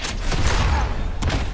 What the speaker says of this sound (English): when you push this red button, you can actually launch these rockets over at Superman there